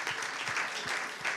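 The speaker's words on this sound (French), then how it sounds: "Ouais, on peut applaudir, vraiment," Audience applause after a talk on entrepreneurship, a steady wash of clapping from many hands at moderate distance, fairly soft and continuous for its whole short length without voices.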